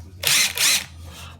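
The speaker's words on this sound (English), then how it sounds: "put in your little drill bits or your other bits" A locksmith's power drill fitted with a drill bit whirs in two short, loud bursts close by, with a brief gap between them, then stops; no one speaks.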